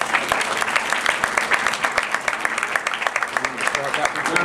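Audience applause for a speaker at a district event in Mount Vernon, Illinois: steady, dense clapping from a sizable crowd throughout, moderately loud and even in rhythm.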